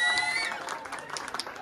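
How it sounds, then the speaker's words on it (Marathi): Guests at an engagement ceremony clap briefly. A short, fairly faint patter of hand claps follows a fading musical tone. "जोरदार तुमच्या टाळ्यांनी मोटिवेट झाले पाहिजे। जोरदार टाळ्या।"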